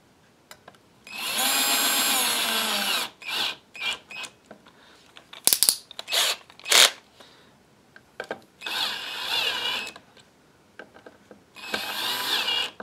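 A power drill drives screws into a soft pine Telecaster guitar body in several bursts: two long whirring runs, a cluster of short choppy pulses in the middle, then two more sustained runs, close and loud with brief pauses between.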